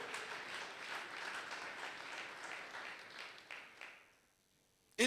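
A church congregation applauding during a Sunday worship service, a broad wash of many hands clapping at a distance that fades out after about four seconds, followed by a brief sharp noise at the end.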